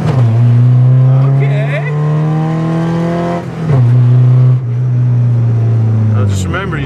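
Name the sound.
cheap Porsche four-cylinder engine revving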